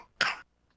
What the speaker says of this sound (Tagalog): Ubo ng anak? Nakababahala? Baka plema.